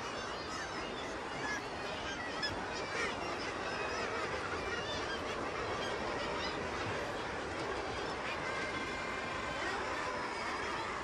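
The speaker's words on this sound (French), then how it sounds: "des dizaines de milliers d'oiseaux se côtoient, se chamaillent et tournoient" Tens of thousands of seabirds crowd the wave-battered sea cliffs of Scotland, and their honking, squabbling calls merge into one dense, continuous din that stays loud and close throughout.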